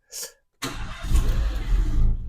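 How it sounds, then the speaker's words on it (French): A Renault car engine starts during a MAP sensor test: a brief click, a short pause, then the engine catches and settles into a steady, close idle with a low rumble. "Quand je vais mettre en route le véhicule, donc je vais passer à l'état de dépression"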